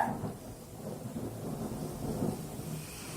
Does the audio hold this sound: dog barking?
no